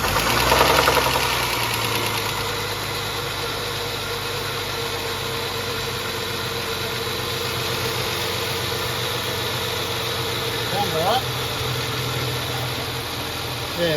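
A Ford AU Falcon engine fitted with new hydraulic lifters runs at a steady idle, a loud, close, continuous rumble with a faint rhythmic ticking throughout.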